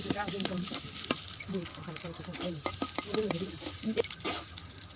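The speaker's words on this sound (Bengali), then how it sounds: "এখন সবকিছু একসাথে মিলিয়ে যে ভেজে নিলাম।" Mixed winter vegetables sizzle in a pan while a spatula stirs them, giving repeated clicks and scrapes over a steady hiss of hot oil, close and moderately loud throughout.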